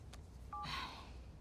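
Phone keypad tones from a call being dialed in the video game Spider-Man 2: a short burst of steady electronic beeps, close and clear, fading into a soft hiss.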